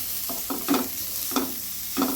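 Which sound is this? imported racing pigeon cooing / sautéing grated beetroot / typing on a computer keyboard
sautéing grated beetroot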